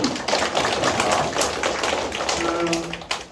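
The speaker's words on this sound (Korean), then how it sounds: "박수 한번 쳐주시죠" A seated audience at an admissions-exam analysis briefing applauds steadily and fairly loudly throughout, a continuous patter of many hands with no talk on top.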